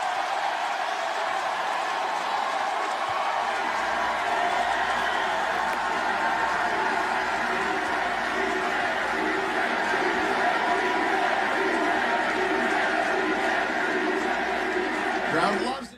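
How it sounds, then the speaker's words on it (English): A wrestling arena crowd on national TV roars in a sustained, dense wall of cheering and chatter that holds steady for the whole stretch, loud and continuous, before cutting off abruptly. "The crowd went wild."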